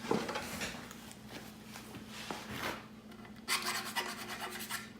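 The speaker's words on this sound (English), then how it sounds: "Just get a small little file like this." A small hand file rasps burrs off a deer antler in close, repeated back-and-forth strokes, steady and fairly quiet, growing brisker toward the end.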